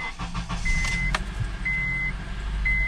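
A Honda CR-V idling steadily after start-up, a low engine rumble running throughout with a few faint mechanical clicks and tones from inside the cabin.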